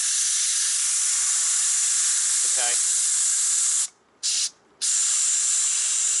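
An IK9 foamer sprayer being depressurized, air hissing out in a loud, steady rush that breaks off twice near the end, with a short spoken word partway through.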